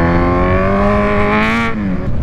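A Kawasaki Z1000R motorcycle roars close by on city streets, its engine held loud and steady, then the pitch dips briefly as the throttle eases near the end.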